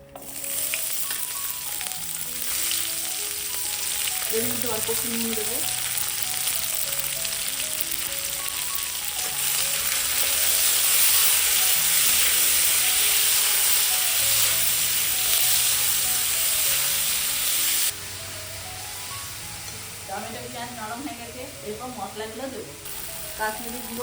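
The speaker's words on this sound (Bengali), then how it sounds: "তেলের মধ্যে কেটে রাখা পেঁয়াজ টমেটো দিয়ে দেবো" Chopped onion and tomato fry in hot oil for a Bengali young jackfruit and prawn curry. A loud, steady sizzle runs throughout, with faint music underneath.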